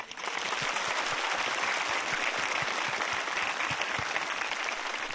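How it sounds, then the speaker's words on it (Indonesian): Steady applause from a comedy show audience, many hands clapping at once, sustained and fairly loud for several seconds with no talking. "Tepuk tangan dulu dong."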